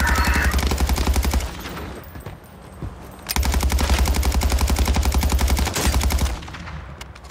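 Rapid automatic gunfire from an Assassin Panda proc shot in a video game, loud and close, in two long sustained bursts separated by a brief lull, with no talking.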